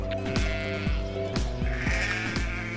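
Sheep bleat repeatedly among a flock on the Normandy coast, several close, wavering calls overlapping one another at a steady pace, with no talking.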